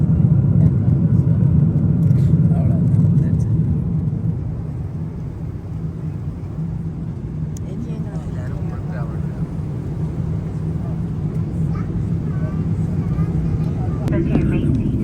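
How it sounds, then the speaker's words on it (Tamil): Steady, loud low-frequency roar of an airliner cabin in cruise on a flight to Qatar, a continuous broadband drone that dips slightly in level partway through, with faint voices under it. "நாங்கள் ஃப்ளைட்டுக்கு மேலே போய்கிட்டு இருக்கிறோம்"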